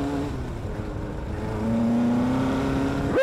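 A dune buggy engine drones steadily and close, then climbs in pitch as the throttle opens during a sideways powerslide, ending with a sharp rev at the end.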